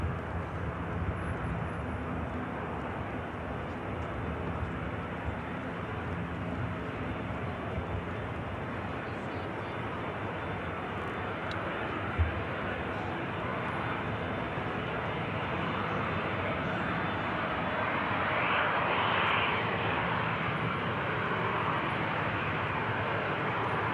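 A Ryanair aircraft taxis at Manchester Airport, its jet engines producing a broad, steady roar that swells slightly toward the end, heard from fairly close over nearly half a minute with no talk.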